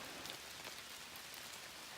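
Steady rain falls in Virginia, a soft, even hiss of drops on a surface throughout.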